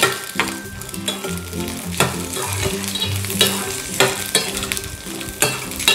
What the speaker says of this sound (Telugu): 4-5 పచ్చిమిర్చిని ముక్కలు చేసుకొని వేసుకోవాలి.